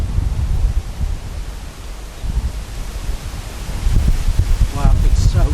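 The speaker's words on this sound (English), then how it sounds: "Wow, it's so windy." Strong outdoor wind buffets the microphone in a constant low roar, gusting harder toward the end, with brief faint voice traces mixed in.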